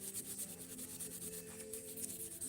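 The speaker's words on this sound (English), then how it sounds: "Let's clean grease and dirt from it, because then the paint remover works faster and better." Steady close rubbing and scrubbing on a Porsche instrument cluster to clear grease and dirt, a quiet continuous abrasive swish with a faint back-and-forth rhythm.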